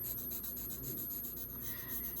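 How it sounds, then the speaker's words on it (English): A marker or crayon colors in a glove on a drawing, rubbing on paper in quick, soft, rhythmic back-and-forth strokes, close and quiet with no talk. "I'm going to color in his glove here."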